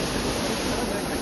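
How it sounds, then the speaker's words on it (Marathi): A Konkan waterfall roars with a dense, unbroken rush of falling water, loud and constant throughout. "तर तो बघा धबधबा"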